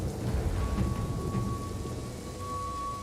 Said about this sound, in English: The weather was terrible, a downpour of rain combined with dense fog.